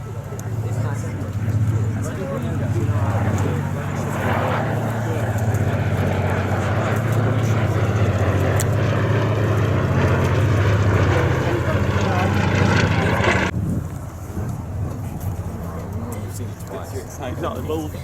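Lockheed 12A Electra twin-engine plane at the 2024 East Kirkby Air Show, a loud sustained propeller engine drone with a roaring pass that cuts off abruptly, leaving quieter background crowd noise.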